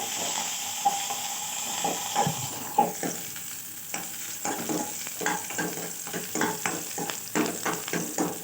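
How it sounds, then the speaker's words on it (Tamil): Onions and curry leaves crackle in hot oil with mustard, cumin and fenugreek for a Tirunelveli-style mor kuzhambu tempering, steady sizzling punctuated by repeated scraping stirs of a spoon against the pan. "தாளிப்புக்கு உண்டான வெங்காயமும் கருவேப்பிலையும் போடுறோம்"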